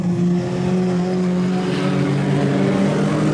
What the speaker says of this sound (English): Hayley Spence would be the next one in front of Connor Smith as they go through the hairpin corner.